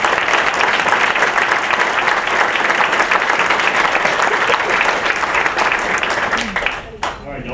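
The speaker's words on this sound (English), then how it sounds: "You give all these folks a round of applause." Sustained audience applause at a local entertainment event, many hands clapping in a loud, steady patter for several seconds before tapering off with a few final claps.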